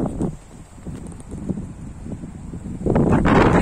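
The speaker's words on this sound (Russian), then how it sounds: "Ветер все-таки задувает, чувствуется." Wind blows on a mountain trail above Yalta, buffeting the microphone in uneven gusts with rustling. It eases midway, then rises into a strong, loud gust at the end.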